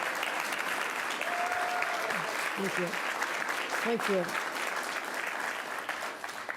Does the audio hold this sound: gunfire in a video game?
no